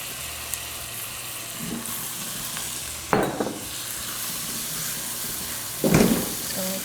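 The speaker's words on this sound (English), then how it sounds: "Adding in the rice here now. We want to toast the rice just a little bit." Rice toasting in a pan for coconut mango rice, giving a steady soft sizzle with a few louder scraping stirs near the middle and end.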